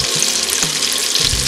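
Chicken pieces fry in oil inside a pressure cooker, giving a steady, close hiss with low bubbling and a few faint scrapes, no voices.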